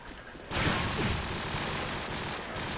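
Rapid gunfire in the competitive shooter Call of Duty 4 ProMod, bursting in suddenly after a quieter moment and holding as a dense, loud rattle of shots for about two seconds, with no talking.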